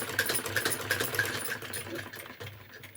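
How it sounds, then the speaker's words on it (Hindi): Sewing machine running steadily as it stitches a folded button placket on a lined blouse, with a close, fast mechanical whirring hum and rhythmic needle clatter for a few seconds, and no talk. "फोल्ड करके फिर हमें सिलाई डालना है।"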